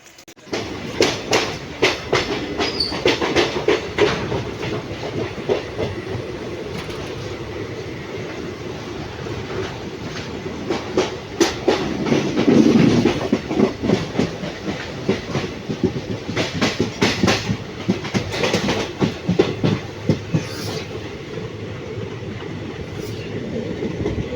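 Onboard the 13027 Kaviguru Express passenger train at night, a steady rumble runs under a regular clickety-clack of wheels over rail joints, loud and continuous with faint voices in the background.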